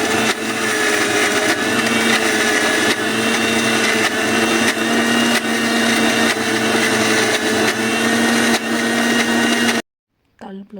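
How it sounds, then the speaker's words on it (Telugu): A mixer grinder grinds chutney for idli and dosa with a loud, steady whirring drone that runs for about ten seconds, then cuts off abruptly into near silence. "ఇప్పుడు దీన్ని మిక్సర్ పట్టుకోవడమే"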